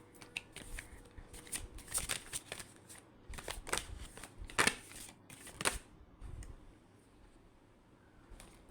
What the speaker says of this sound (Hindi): इतने सारे कार्ड्स, एक बार फिर से शफल करते हैं।